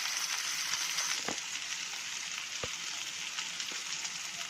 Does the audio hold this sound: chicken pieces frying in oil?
yes